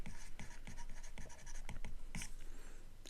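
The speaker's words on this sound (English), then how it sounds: "let's write this very important fact down" Pen or chalk scratching out a theorem during a maths lecture on path integrals, a run of short tapping strokes and scrapes at a close, moderate level with no talk.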